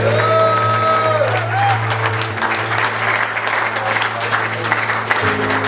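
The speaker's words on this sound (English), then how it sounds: "round of applause." Wedding guests applaud the bride and groom, a dense, sustained round of clapping with a few cheers over lingering band tones from a live wedding singer's set.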